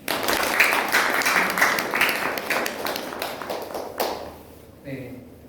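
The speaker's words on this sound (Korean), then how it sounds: "큰 박수 맞으십시오." Applause from the audience at a reunification concert evening in a café gallery in Jinju, a crowd clapping steadily and then tapering off near the end, with some shuffling and a voice at the close.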